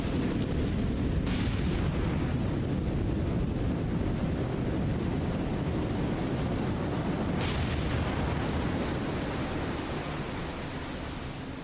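Naval gun salvos fire in the War on the Sea video game, heard as a dense, continuous rumbling roar with a couple of sharper blasts breaking through.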